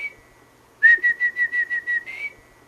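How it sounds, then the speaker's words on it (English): A soft, clear whistled tone, held briefly then broken into a quick series of about seven short pulses before trailing off, alone in quiet surroundings, whistled to kiwi eggs close to hatching. "As eggs come close to hatching, they may wriggle on the bench in response to a soft whistle."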